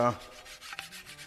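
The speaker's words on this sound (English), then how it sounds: "take a piece of wood and run it across your bed knife" A piece of wood is rubbed across the edge of a mower's bed knife to remove the burr, making one brief, close, dry scraping stroke.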